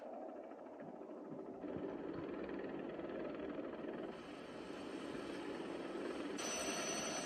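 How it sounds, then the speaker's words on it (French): An attack helicopter in an animated action scene approaches fast, a steady rising roar of rotor and engine noise that grows denser and louder across the stretch, with no voices. "Un hélicoptère de combat en rasement!"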